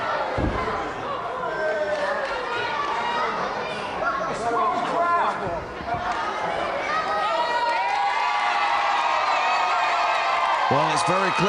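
A crowd roars and cheers loudly and continuously for a favourite competitor at a televised matchup, with shouts and excited voices rising throughout and a few sharp bangs near the end.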